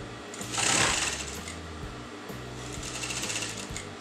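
A sewing machine stitches a blouse seam in steady continuous runs, its motor buzzing and needle tapping rapidly, loud and close with no talk.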